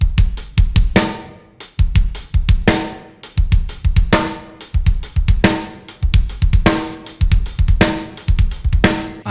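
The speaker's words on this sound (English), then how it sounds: "that's triplet 16th subdivision on our hi-hat, staying with 8th notes, and then filling in the triplets with slides" Fast drum groove from a lesson, with triplet sixteenth hi-hats over eighth notes and rapid single-kick slides filling the gaps. Dense, driving hits with accented crashes recur steadily, played loud and close with no talking.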